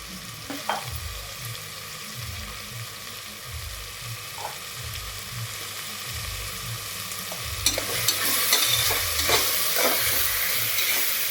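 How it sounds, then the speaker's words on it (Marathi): Vegetables with coriander powder, garam masala and turmeric frying in a pot for a spicy Khandeshi dish give a steady close sizzle, with scraping stir strokes that grow busier and louder toward the end. "आता पण आपले भाजीपाला बी झालेला आहे त्यामध्ये मसाला टाकून घेऊ."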